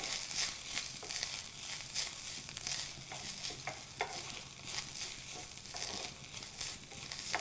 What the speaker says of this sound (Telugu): కొబ్బరి వేసి కొబ్బరి కూడా పచ్చి వాసన పోయే వరకు ఈ నూనెలో వేయించుకోవాలి